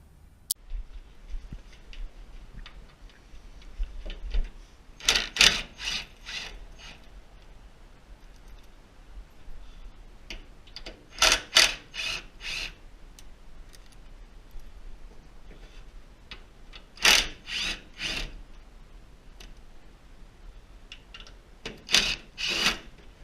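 Metal bolts being loosened and removed from the door of a 1937 Pontiac, heard as scattered clusters of sharp clicks and ratcheting ticks at roughly five-second intervals, fairly quiet with faint background noise between bursts.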